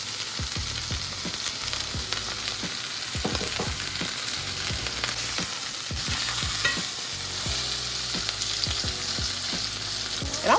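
Beef pot roast sears in a hot pan, a continuous loud sizzle and spatter with scattered clinks and scrapes from stirring, no talk.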